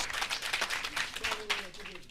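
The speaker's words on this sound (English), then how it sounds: "A round of applause." Audience applause at a regional state address, a dense patter of clapping from a crowd, with a voice speaking over it toward the end.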